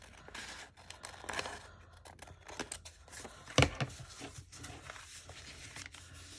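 Scissors snip paper while trimming a junk journal folio, with a few quiet cuts and small rustles of handled paper, one sharper snip standing out near the middle, close and faint.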